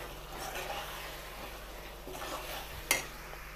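Eggplant and tomato being mixed in a pan for a mashed eggplant bharit, a soft sizzle under quiet stirring scrapes, with one brief clink of the utensil against the pan near the end.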